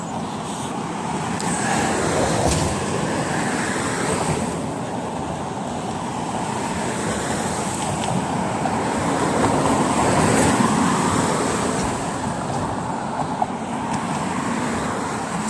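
Steady road traffic with cars passing continuously along a street beside a wooded park in Bothell, a broad, fairly loud roar that swells and eases as vehicles go by, with no voices over it.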